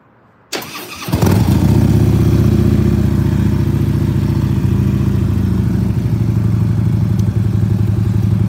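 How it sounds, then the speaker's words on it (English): Harley-Davidson Road King motorcycle engine turns over and starts, then settles into a steady, loud, close idle with a throbbing lumpy rhythm, warming up in neutral while the oil is being changed. "the heat cycle is just letting the engine run"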